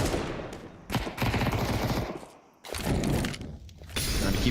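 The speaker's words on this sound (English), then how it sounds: "Zoned by the Molotov into the frag grenade" A Molotov and a frag grenade go off in Counter-Strike, with bursts of shattering glass and sharp crackling blasts separated by short quiet gaps, fairly close and loud.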